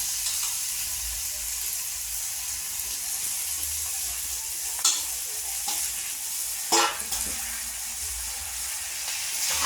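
Green leafy vegetable curry stirred in a frying pan with green chillies and onions, a continuous close sizzle broken by a few sharp scrapes of the spoon, no talk.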